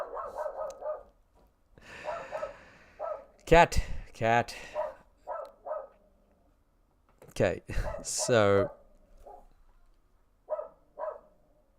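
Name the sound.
dog barking at night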